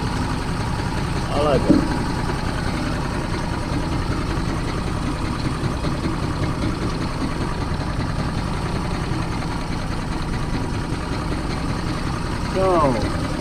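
A 50hp Mercury outboard motor idles roughly and steadily, close by, its uneven low rumble near stalling throughout, with brief voices talking over it.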